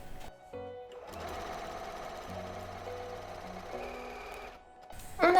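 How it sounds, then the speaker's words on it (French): A sewing machine runs a zigzag stitch along the edge of a fabric changing mat, a steady close mechanical whirring hum with slight shifts in pitch, stopping near the end. "on va faire un point zigzag au niveau du bord, partout où on a fait la couture"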